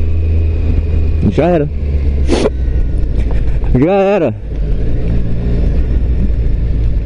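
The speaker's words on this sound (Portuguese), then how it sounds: "Aí eu só tô vindo rápido, acelerando." A Triumph Street Triple 765RS motorcycle rides fast, its engine noise loud and continuous as other traffic passes by, with a couple of horn blasts and a rider speaking briefly in between.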